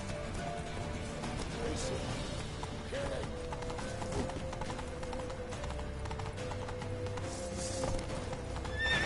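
Horses neighing and hooves clattering at a gallop in the video game The Witcher 3, amid a busy, noisy scene with a constant rush of background sound.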